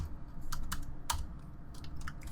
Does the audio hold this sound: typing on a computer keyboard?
yes